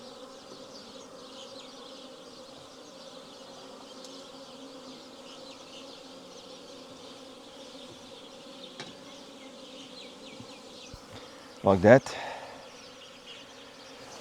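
Wasps buzz around a beehive in a soft, steady drone, with a person talking quietly nearby and a sharp knock or bump near the end.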